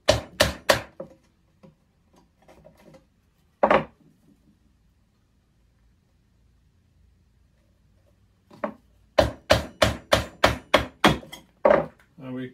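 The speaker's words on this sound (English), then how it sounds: "we clean it up with a smaller chisel in the corner" Sharp wooden knocks from a chisel paring hand-cut dovetails: a quick burst of three strikes, a lone hit, then a steady run of about ten close, loud blows after a quiet pause.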